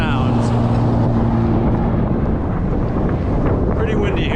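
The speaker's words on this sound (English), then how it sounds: "Pretty windy here." Steady wind buffets the microphone of a GoPro Hero 8 Black outdoors, a loud continuous rumble and roar across the whole stretch, with a voice faintly present beneath it.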